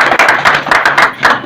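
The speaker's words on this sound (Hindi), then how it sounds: "सबके लिए एक जोरदार ताली बजा लेंगे।" An audience at a Jalgaon journalists' felicitation event claps in several quick, loud bursts of applause, close and sharp, with no talking over it.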